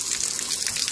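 Water gushes out of the plumbing of a 2017 Rockwood Mini Lite 2109s camper during de-winterizing, a loud, steady splashing rush heard close up for under a second.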